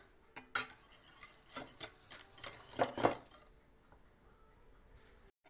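Sugar being stirred into an egg yolk mixture with a spoon in a bowl gives a few quiet, uneven scraping and clinking strokes over about three seconds, followed by near silence.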